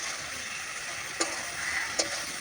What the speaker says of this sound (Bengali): এবার ভালো করে এটাকে কষে নেব